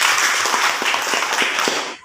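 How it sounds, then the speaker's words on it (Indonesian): Children in a classroom clapping their hands together in a quick, loud, slightly uneven burst of close claps that cuts off at the end. "Ada yang tepuk tangan."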